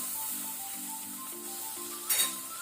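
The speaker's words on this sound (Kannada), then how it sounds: "ಇದನ್ನು ಸಹ ನಾವು ಸ್ವಲ್ಪ ಫ್ರೈ ಮಾಡ್ಕೊಳ್ಬೇಕು" Tomatoes frying with onions in a pan over low to medium flame, a soft steady sizzle with one brief clink of a utensil near the end.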